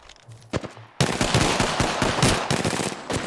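Rapid gunfire from a non-shotgun weapon in Apex Legends, with a few scattered shots followed by a dense, loud burst of fast repeating fire that lasts to the end.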